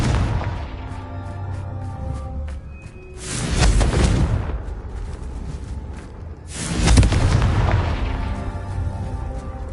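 Spell explosions in a PS5 wizarding-school adventure game sound as two heavy booming blasts, one around the middle and one late, each with a long rumbling tail over a steady game background.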